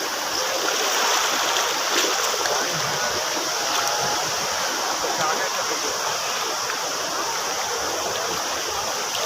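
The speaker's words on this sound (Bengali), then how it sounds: "হাই সাগরের ঢেউ, হাই" Sea waves roll in on Cox's Bazar beach at night as a continuous loud rushing wash of surf, with a voice faintly mixed in.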